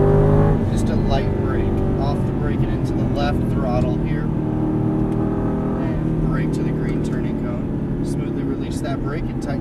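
An Aston Martin V8 Vantage accelerates on a track course, its engine note rising and shifting beneath a driving instructor's continuous spoken coaching.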